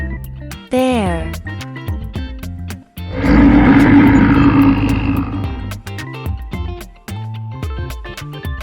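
A bear lets out one long, deep, rumbling roar up close, rising after a short high note and fading out, with a plain musical backing around it.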